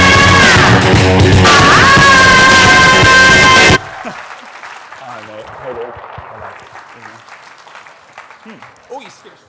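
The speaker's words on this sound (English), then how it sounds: "give a massive, warm round of applause" Loud audience applause with cheering and shouts rises at a success summit to welcome a speaker, then cuts off abruptly into a much quieter room where a voice begins talking.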